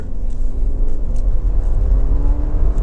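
A 2025 Subaru Forester Touring engine accelerates in deep snow and mud mode with traction control off, a loud, low rumbling drone heard from inside the car, steady and close, with no voices.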